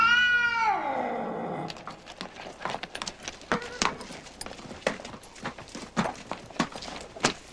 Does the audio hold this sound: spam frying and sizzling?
no